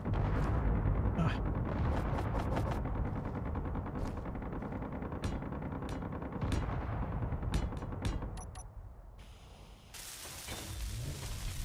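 Rapid bursts of video game gunfire with sharp cracks and booms over a dense background, thinning out briefly near the end before resuming.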